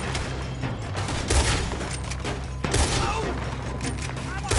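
Rapid gunfire crackles through a Red Dead gunfight, sharp shots coming in close clusters over a rumbling background, with voices talking in the clip.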